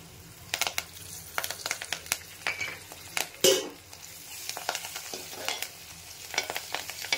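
Coriander and curry leaves hitting a hot pan in a raw mango rice dish, giving a soft sizzle along with repeated stirring scrapes and light utensil clatter, moderately close, with no talking.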